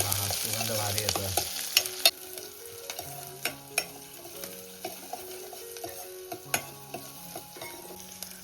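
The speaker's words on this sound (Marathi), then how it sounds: "आता मी कांदा टाकते. अरे वा, कांदा गेलाय. कांदा जरा परतवून घेते." Onion sautés in a pan for a Konkani mandeli fish curry with raw mango, a gentle sizzle under repeated, rhythmic spoon scrapes and knocks against the pan, with no talking.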